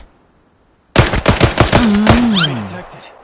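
Rapid bursts of automatic gunfire from the Arena Breakout shooter game, with a SCAR rifle in play, crack loudly after a moment of silence, followed by a ringing, pitch-sliding tail and no talking.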